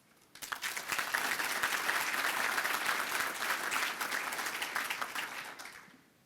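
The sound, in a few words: audience applause for a speaker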